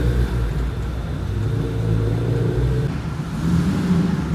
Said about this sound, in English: Sold BMW 5 Series rolling out.